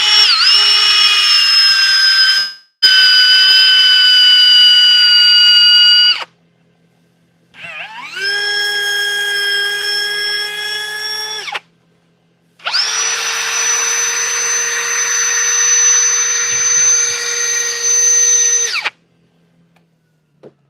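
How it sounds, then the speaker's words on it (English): Power sanding tool whining against a piece of turned wood, three loud sustained runs with steady tones, stopping briefly between passes and ending abruptly; no talking. "Final touch before we move on is I'm gonna sand it with this"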